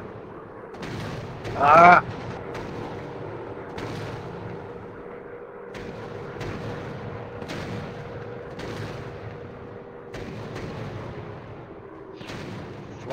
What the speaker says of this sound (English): God, that AA gun real close.